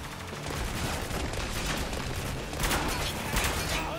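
Gunfire in the video game Spec Ops: The Line, rapid bursts of shots and clattering fire over a dense battle din, with louder volleys near the end.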